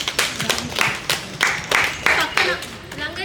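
A small group claps for an elderly patient at a rehabilitation activity session, several uneven bursts of hand claps close by over a few seconds.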